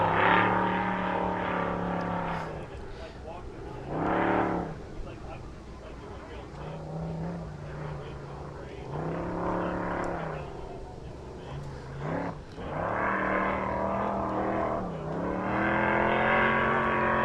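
Ultra4 off-road race car on a Jimmy's 4x4 chassis, driven by Dave Hartman, revs in repeated loud engine surges and drops, swelling and fading as it works through the course while a commentator talks over it.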